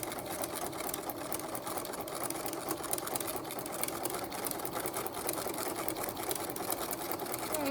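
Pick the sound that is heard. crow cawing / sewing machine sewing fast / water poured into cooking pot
sewing machine sewing fast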